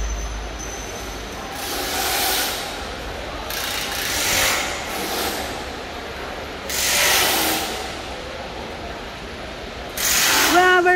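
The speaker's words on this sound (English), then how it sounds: "And this area is installed KF94 fish type mask folding machine." A KF94 fish-type mask folding machine runs in a busy mask factory, giving steady mechanical clatter with repeating bursts of hiss and rattle every few seconds and a sharper burst at the end.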